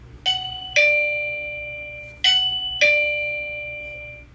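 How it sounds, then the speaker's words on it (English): A chime from the Aosu doorbell's Homebase plays two ding-dong pairs of bright bell tones, each pair struck close together and left to ring and decay before the next, loud and close. "This is one of your Homebases."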